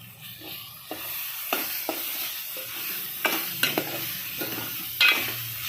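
Paneer cubes sautéing in oil and cooked masala for palak paneer, a steady close sizzle with sharp spoon scrapes and clinks against the pan at irregular intervals, no talking.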